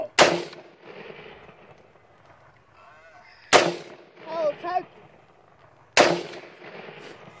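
Three loud rifle shots cracking outdoors against a Tannerite target, each a sharp blast with a ringing tail, with people talking and exclaiming between them.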